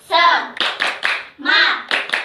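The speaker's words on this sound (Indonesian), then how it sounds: "Yuk dimulai. Tepuk semangat." A class of fourth-grade children performs a rhythmic spirit clap, with bursts of clapping alternating with loud group chanting close by in a classroom.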